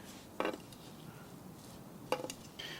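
Extra virgin olive oil, about a tablespoon, being stirred into food in a bowl, heard as two short scraping clinks of a utensil against the dish with quiet pauses between, close by.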